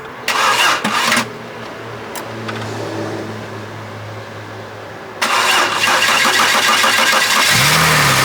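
An American camper van's engine is cranked with a couple of short bursts, then after a pause turns over and catches, running loud and steady close by before cutting off.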